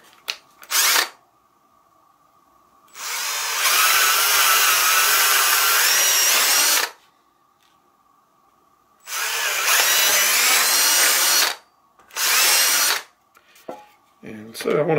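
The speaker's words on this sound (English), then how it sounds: "Got a drill set up here for that." A power drill bores holes in a homemade shock collar tester. It runs in loud, close bursts of several seconds each, with quiet gaps between them and a faint hum in the background.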